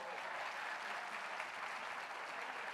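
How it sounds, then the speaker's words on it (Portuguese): Steady, dense applause from an audience at a church gathering, continuous clapping filling the whole moment without any voices. "Então dá uma salva de palmas para Jesus"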